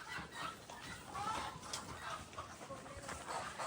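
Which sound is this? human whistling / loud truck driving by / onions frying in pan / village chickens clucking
village chickens clucking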